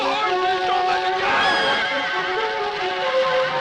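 Horses whinny and neigh repeatedly over a busy, noisy background, with shouting voices mixed in, in a 1959 film scene.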